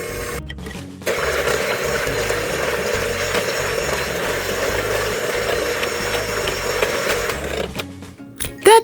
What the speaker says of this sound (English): This bowl is full of heavy whipping cream. Blend it until it becomes thick and creamy.